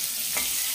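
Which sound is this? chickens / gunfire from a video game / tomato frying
tomato frying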